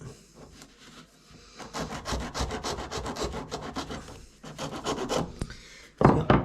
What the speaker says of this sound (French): Juste mettre un petit coup de lime, je pense, pour lui donner la forme arrondie.